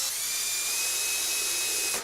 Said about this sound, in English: I'm going to pre-drill the holes so it doesn't split